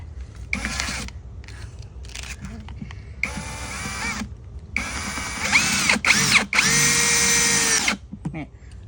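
Power drill boring a hole into a household wall, several loud whining bursts of varying length separated by short pauses, close by, with the motor pitch shifting under load.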